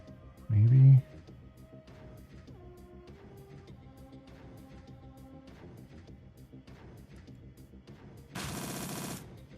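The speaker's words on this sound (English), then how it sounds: "Full auto fire." Full-auto gunfire in Shadowrun Dragonfall: one dense, loud burst near the end of the clip, coming after a short vocal shout and quiet game music.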